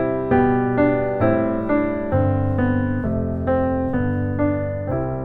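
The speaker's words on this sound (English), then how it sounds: "If you have groups of 2 eighth notes or quavers in a bar, then it might sound something like this." Piano notes played at a steady pulse of evenly spaced eighth notes grouped in twos in simple time, with a gentle accented rhythm over several bars, clear and close with no voices.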